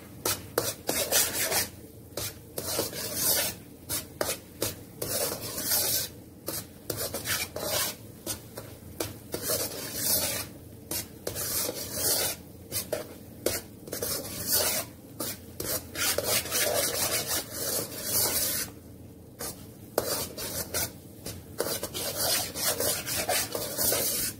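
Semolina being stirred and roasted in a pan for sooji barfi, a steady dry scraping and rasping of the spoon through the grains that repeats continuously, close and fairly loud with no talking.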